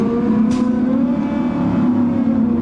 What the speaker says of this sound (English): You can hear him trying to get the revs up.